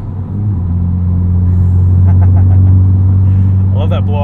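A modified 2021 Honda Civic Type R with an upgraded intake drones with a steady, loud, low engine hum while driving, the tone swelling slightly, and a voice is heard briefly near the end.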